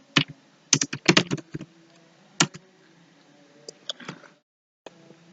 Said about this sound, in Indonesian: Caranya adalah kita mengetikkan sintaks seperti berikut ini.